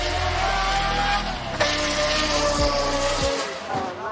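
A supercharged car engine re-engineered by TWR revs hard at a speed festival, a loud harsh roar whose pitch climbs and then drops sharply several times in quick blips.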